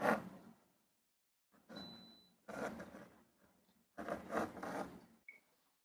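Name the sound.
pencil sketching on paper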